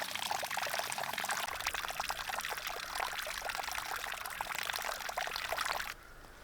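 Water overflows from a ram pump's creek source intake fitted with a ball valve, pouring in a steady, loud continuous splash that stops abruptly near the end, leaving quieter background flow.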